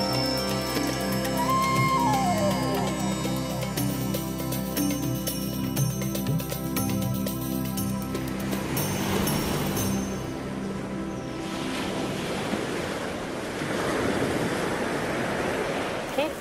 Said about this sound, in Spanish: No puedo creer, ese mar, ¿es chiste? Ese es el mar de San Cayetano